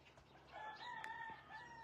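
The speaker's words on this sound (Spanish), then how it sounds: "Ahí están los gallos cantando." Roosters crow in the distance in San Pedro de la Cueva, a couple of drawn-out calls overlapping against a quiet outdoor background.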